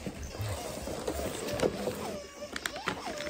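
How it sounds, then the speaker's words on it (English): A squeaky newspaper-shaped dog toy lets out a few rising and falling whining squeals, close and moderately loud over rustling handling noise. "There's a newspaper toy, also squeaks."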